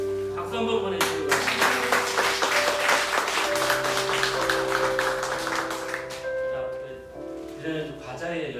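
Congregation applause fills a Sunday church service, brisk clapping that runs for several seconds over sustained instrumental tones before tapering off, with a voice heard alongside.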